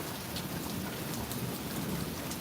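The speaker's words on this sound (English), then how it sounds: "the rain is hitting the top of the cooler" Steady, dense rain drums on the lid of a cooler set outdoors during a thunderstorm, a continuous close patter with no pauses.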